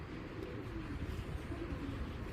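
Large old-breed pigeon cooing softly, low repeated coos under faint wind and background noise.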